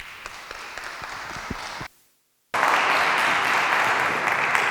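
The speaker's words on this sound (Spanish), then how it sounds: "un fuerte aplauso" An audience in a church at a university seminar applauds steadily, the sound cuts out for a brief moment of near silence, then returns louder and fuller.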